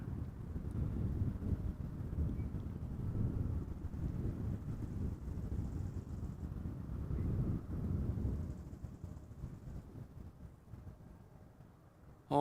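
Breeze at Amsterdam Schiphol Airport rumbling steadily against the microphone outdoors, a low, continuous buffeting that eases slightly toward the end, with no talking.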